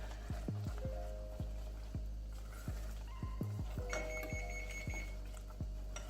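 A kitchen stove beeps as it heats up while toffee cooks, sounding a regular series of sharp electronic beeps at roughly half-second intervals that drop in and out, fairly close, with no one talking.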